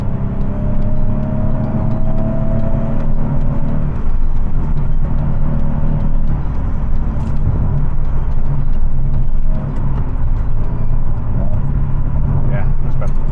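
Steady engine and road drone from a Nissan 370Z being driven with a newly installed short shifter, a continuous loud interior rumble with faint rattles and small changes in load.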